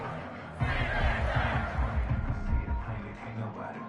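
Crowd in a Madden football video game cheering and roaring loudly for several seconds, a dense swell of many voices with a commentator-style voice woven through.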